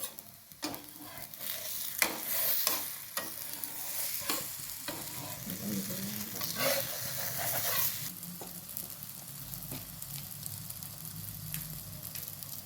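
Mango-pulp and coconut holige flatbread fries in oil on a pan, a soft continuous sizzle broken by several sharp scraping clicks of the spatula as it is turned, fairly quiet and close.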